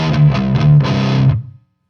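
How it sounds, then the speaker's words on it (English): Palm-muted open chord on a distorted electric guitar, part of a riff: a few chugging chunky strokes in quick succession, loud and close, then the sound dies away into silence. "but you got to get that palm muting in there"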